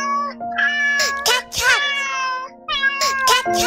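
A cat meows several times in a children's song, with close, clear, pitch-bending cries over sustained musical tones and brief pauses between them.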